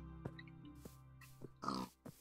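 Pigs on a farm in a video game, giving several short, near oinks and grunts spaced irregularly, with one louder, longer squeal near the end.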